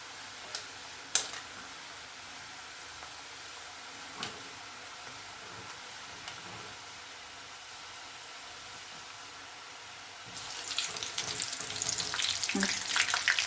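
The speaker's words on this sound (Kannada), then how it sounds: "ಈ ಮಸಾಲೆ ಏನು ಹಾಕಿದೆ ಅದನ್ನೇ ಸ್ವಲ್ಪ ಚಿಕ್ಕ ಚಿಕ್ಕದಾಗಿ ಉಂಡೆ ಮಾಡಿಬಿಟ್ಟು ಎಣ್ಣೆಲಿ ಫ್ರೈ ಮಾಡ್ತಾ ಇದ್ದೀನಿ" Small balls of mutton keema masala frying in oil give a soft, quiet sizzle with a few sharp ticks and clicks, then a louder, denser crackling bubble builds near the end.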